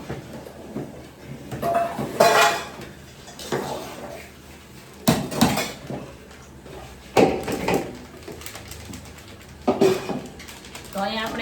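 Utensils, pots and pans are set down in a home kitchen with scattered clanks and clatters of metal vessels. The clatters come in separate bursts amid faint room noise, and someone talks between them.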